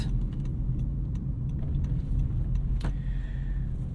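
Steady engine drone of a 2023 Honda HR-V EX-L AWD on a back road, with road and tire rumble heard from inside the cabin, a faint rattle and a brief whine near the end.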